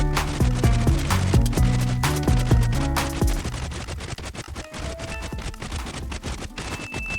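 A Minecraft bone meal machine running on a tree, giving rapid, loud, repeated clicking and popping bursts, with musical tones at first, then thinning into sparser clicks.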